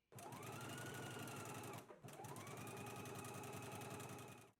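A sewing machine runs in a steady, continuous whir stitching the sleeve seam of a knit wrap dress at a 5/8 inch seam allowance, close and loud, with a brief pause near the middle before resuming.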